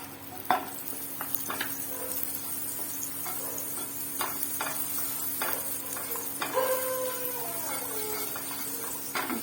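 Butter melting in a pan for bread pizza, a light steady sizzle with scattered clinks and scrapes of a utensil against the pan, close up and without speech.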